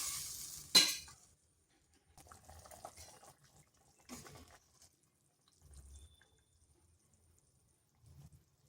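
Water pours from a tap into a cooking pot for a Bengali eggplant and chana dal curry, a short splash and clink near the start followed by quieter intermittent trickling and light handling sounds.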